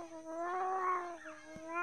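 A kitten gives a drawn-out, plaintive meow that swells and fades over about a second and a half, fairly close and alone without talk.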